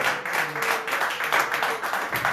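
A church congregation at an Easter celebration service claps together in a steady, rhythmic beat, a full, roomy burst of many hands with no voices over it.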